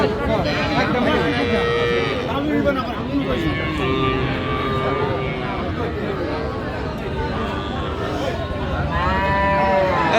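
Cattle low and moo repeatedly amid a busy crowd at a livestock market in Aftabganj, Bangladesh, where young bulls and heifer calves are sold, with people chattering loudly close by throughout.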